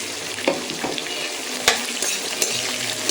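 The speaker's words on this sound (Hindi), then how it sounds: "तो ये भून चुका है, इसमें डाल देंगे प्याज।" Onion frying in a pan in a home Pahadi kitchen, a steady close sizzle with occasional sharper crackles and stirring scrapes throughout.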